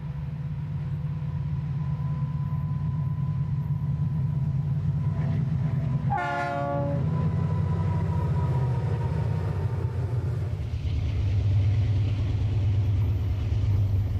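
Union Pacific high-tonnage freight train rolls past in the Kansas hills with a steady low engine drone and wheel rumble, a short horn blast midway, then continued grinding of cars close by.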